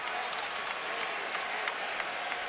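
Basketball arena crowd at Rupp Arena cheering and applauding, a dense, steady roar of clapping and shouting filling the hall with scattered louder bursts throughout.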